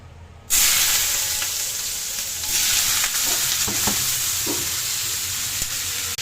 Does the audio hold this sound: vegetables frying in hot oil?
yes